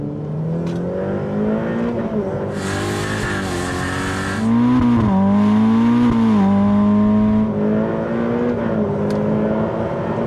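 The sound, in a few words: Ferrari F8 Tributo accelerating hard in second gear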